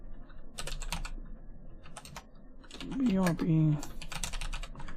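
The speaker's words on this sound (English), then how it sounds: "it's gonna be really hard to type on this" Quick clattering keystrokes on a computer keyboard come in short bursts with pauses, close and fairly quiet, while a voice speaks briefly over the middle.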